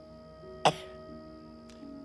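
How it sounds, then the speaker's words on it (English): A young boy gives a single loud, sharp cough, a brief burst standing out against a quiet background with a faint steady hum. "Bigger cough."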